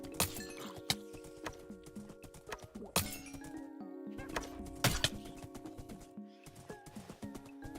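Horse hooves clip-clopping across open plains in the Minecraft video game, a quiet run of uneven hoof beats with occasional sharper thuds and faint background game sounds.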